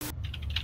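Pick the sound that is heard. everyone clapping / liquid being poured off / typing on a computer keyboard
typing on a computer keyboard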